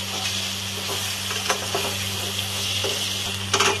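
Okra frying in a pan with a mustard-water mixture, giving a steady close sizzle with a few light stirring clicks and a brief louder crackle near the end; no voices.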